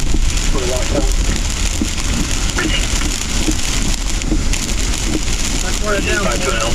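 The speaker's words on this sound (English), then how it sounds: "Well, we're getting some rain." Rain falling steadily outdoors, a dense continuous hiss with scattered droplet patter, loud and close, while a person talks briefly over it.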